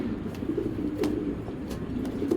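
Racing pigeons coo in low, repeated throaty murmurs, several birds overlapping close by, with a few faint sharper clicks and a steady background hum.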